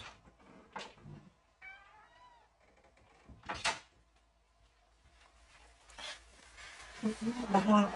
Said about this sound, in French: Oh, il y a mon chat qui commence d'embêter là-bas.